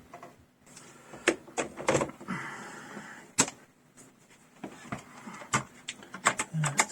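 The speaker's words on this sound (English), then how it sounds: "I'll plug it in and we can eject the tray" Technics SL-P333 CD player tray motoring open, a series of short mechanical clicks and whirring bursts close up, with quiet intervals between.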